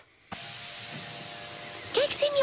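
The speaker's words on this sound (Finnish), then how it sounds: "Minä täytän sen ilmalla." A cartoon bouncy castle inflates with a sudden steady rush of hissing air, loud and continuous, with cartoon voices speaking over the end.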